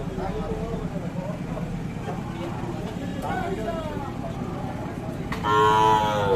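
A dairy cow at a crowded rural cattle market moos in a loud, drawn-out call near the end, over steady crowd chatter and people talking throughout.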